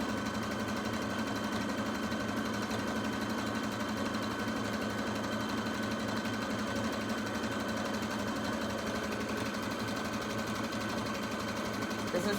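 Sewing machine stitches pinned minky fabric with a steady, continuous fast mechanical whirr and rhythmic needle chatter, fairly quiet and unbroken throughout.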